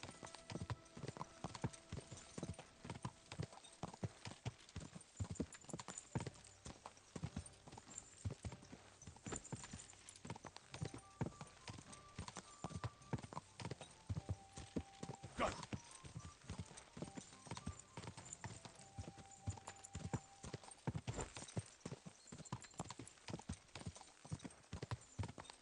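Horse hooves clip-clop steadily and continuously in the medieval game Kingdom Come Deliverance 2, with occasional snorts and no talk over it.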